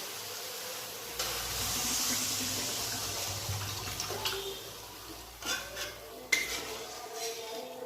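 Water pours into a pan of sizzling pomfret mustard curry masala, a rushing hiss for several seconds that settles into bubbling, followed by a few sharp clanks of a spoon against the pot, close by.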